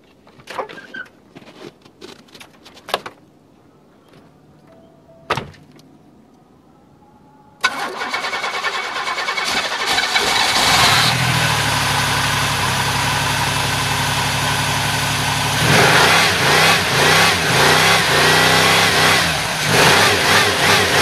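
An old, crusty Buick car with a leaking fuel line is cranked and fires up. A few sharp clicks and clunks come first, then the engine catches loudly and settles into a rough, revving idle that surges again near the end.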